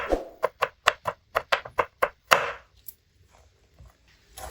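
A knife chops garlic into small pieces on a board for mustard greens saag: about nine quick, sharp, evenly spaced chops close by, then near silence.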